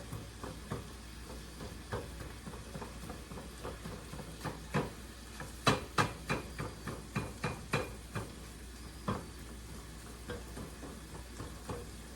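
Ground beef and pasta for cheeseburger pasta sizzle steadily in a hot frying pan while a utensil scrapes and clacks against it in an uneven rhythm of stirring strokes.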